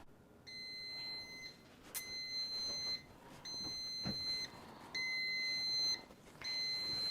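A bread machine sounds a series of high, steady electronic beeps in regular bursts, each lasting about a second, over a quiet background hum.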